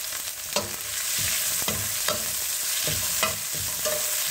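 Sliced onions fry for sambar in a pan with a constant close hiss, punctuated by repeated sharp spatula scrapes and taps at an uneven rhythm, with no voices.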